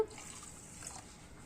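Water pours into a semolina mixture in a bowl for malpua batter, a soft steady trickle and splash after a brief initial clink, fairly quiet and close, with no talking.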